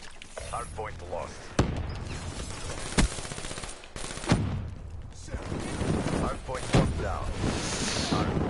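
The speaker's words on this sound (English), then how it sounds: "feel bad for using the grenade launcher there because it's kind of a noob gun" Gunfire and grenade launcher blasts from a Black Ops 3 hardpoint match on the Combine map: dense machine-gun bursts run throughout, punctuated by several sharp booming launcher shots, with game voices mixed underneath.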